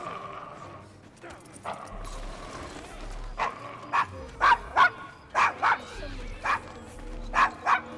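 A dog named Desmond barks repeatedly in Assassin's Creed Syndicate, a run of sharp, loud barks growing more frequent toward the end, with faint voices and ambient street noise beneath.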